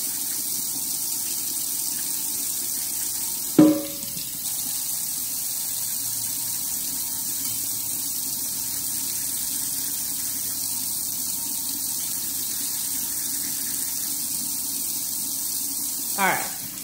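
A steady hiss of tap water runs while tumbler parts are rinsed clean, with a couple of brief squeaky knocks as the pieces are handled under the stream.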